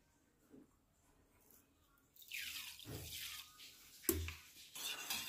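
Lemon water being poured into a bottle in a village home, splashing and trickling in short uneven bursts close by after a quiet start.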